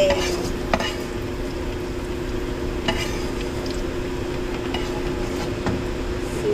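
Frying in a pan with steady close sizzle and repeated metal spatula stirs and clinks against the pan, over a low constant hum.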